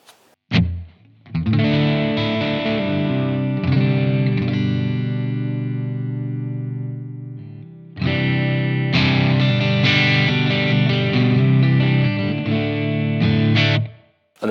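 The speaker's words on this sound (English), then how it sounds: "we can change the time and tone of the reverb as well" Electric guitar played through the reverb on a Blackstar Amped 1, sustained distorted chords ringing out with a reverb tail, a brief gap near the middle before strumming resumes loud and full, then cutting off at the end.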